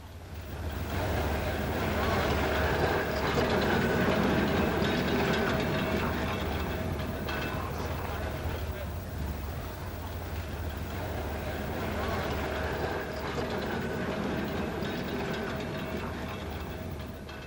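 A Blackpool tram rolls along its rails with a steady low rumble and faint clicking, continuous throughout and fairly close, with a voice talking over it.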